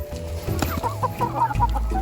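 Backyard chickens cluck and squawk up close while being fed pieces of fried chicken, a run of short, excited clucks that rises in bursts and then settles, with no talking.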